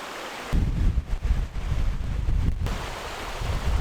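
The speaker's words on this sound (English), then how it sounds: "There's the little creek flowing in there." A small creek flows through ice-out wilderness, its continuous rushing heard up close and mixed with gusty wind buffeting the microphone.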